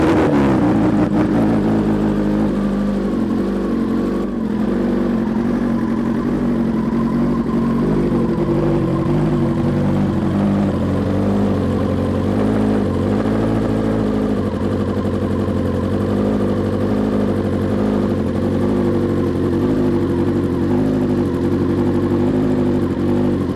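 A BMW S 1000 RR superbike engine runs loud and close, idling with a steady throb and rising into revs in waves throughout, with no talking over it.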